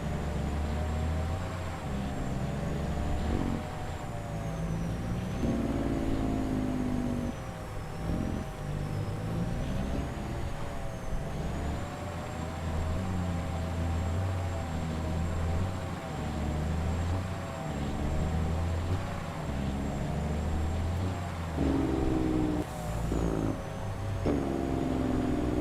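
A heavy truck engine in the farming video game Farming Simulator 22 rumbles steadily throughout, with shifting revs and a brief hiss like an air brake near the end, no talking.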